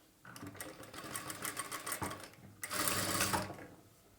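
A sewing machine runs in two bursts of rapid, even stitching, close by and fairly quiet, as a blouse side seam is sewn, with a short pause between runs and no talk.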